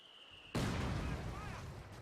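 Mortar shells exploding in a chain reaction in Company of Heroes 2: a sudden loud blast after a brief tone, then a sustained rumbling roar that rolls on without pause.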